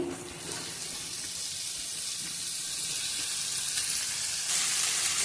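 Spices fry in a pan for homemade mango chutney, giving a continuous hissing sizzle that holds steady at moderate volume and swells a little louder near the end.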